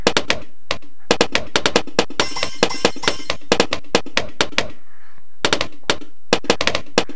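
Rapid bursts of sharp, clattering shots from a dartling gunner tower in Bloons TD Battles, firing in quick repeated volleys with brief pauses between groups.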